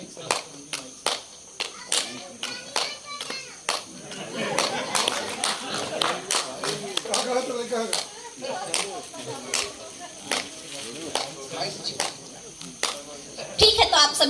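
Sharp, repeated hand claps from an audience at a poetry gathering at a Sai temple courtyard in Katghora, Korba, Chhattisgarh, keeping a steady beat, with a broad murmur of voices and activity underneath.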